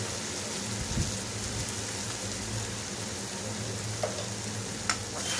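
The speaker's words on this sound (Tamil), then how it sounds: "நல்லா கிளறி விட்டுருங்க, ஒன்றோட ஒன்று ஒட்டாமல்." Raw banana slices stir-fry in a pan over a medium flame, giving a steady, close sizzle with a few faint scraping and clinking stirs and no talking.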